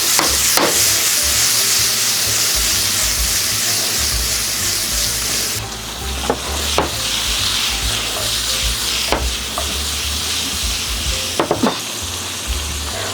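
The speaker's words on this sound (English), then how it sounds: "let's add the onion here to the pan" Onion frying in a hot pan, a loud, steady sizzle that runs throughout, broken by a few sharp clicks and scrapes of stirring.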